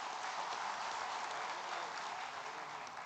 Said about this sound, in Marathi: त्या परेश दाभोळकरांसाठी पुन्हा एकदा जोरदार टाळ्या वाजवा